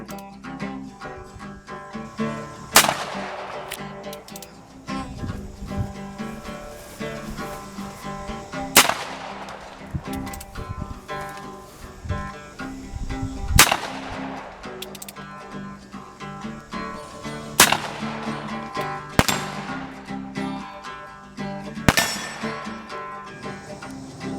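Six loud, sharp gunshots from a Charles Daly 1873 single action six-shooter revolver, fired one at a time with several seconds between each, every crack followed by a brief echoing tail.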